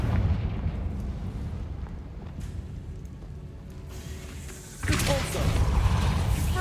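In Hogwarts Legacy, the Confringo fire spell goes off as a loud, rumbling explosion over constant game noise, with a second heavy burst swelling up partway through.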